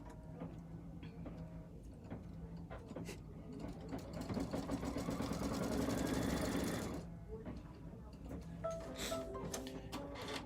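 An embroidery machine sews the cut and placement stitch for a bench pillow, its close rhythmic clatter swelling to a dense, loud run before stopping, with scattered clicks and handling noises after.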